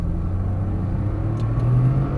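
A Porsche 911 Turbo S pulling away on a cone course, its engine giving a low steady rumble that rises slightly in pitch, heard from inside the car without talking.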